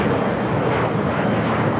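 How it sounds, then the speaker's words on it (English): Boeing 777 airliner pushing back on the apron at LAX, a steady broadband jet engine roar and whine filling the scene at constant loudness with no pauses. "the 777 now pushing back"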